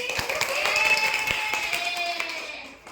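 Children in a classroom clap together, a close, rapid patter of small hands with some sharp individual claps, mixed with a sustained tonal sound and fading out at the end.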